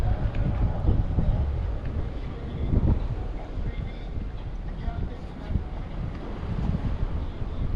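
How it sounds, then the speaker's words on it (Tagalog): Strong wind at sea during a squid-fishing outing, gusts buffeting the microphone with heavy low rumble and roar, steady throughout with surging bursts, water faintly beneath. "sobrang lakas ng hangin mga master"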